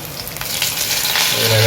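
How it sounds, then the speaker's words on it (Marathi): Garlic and bay leaves sizzle and crackle steadily in hot oil as tempering for Konkani chicken, a close, continuous frying hiss that grows slightly louder toward the end. "इकडे फोडणीला लसूण आणि तेजपत्ता"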